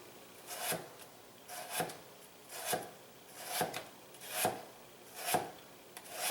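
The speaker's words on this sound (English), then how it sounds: "So I'm just rocking my knife." A knife rocks through potatoes on a cutting board for a holiday gratin, making seven steady, evenly spaced scraping chops close by with nobody speaking.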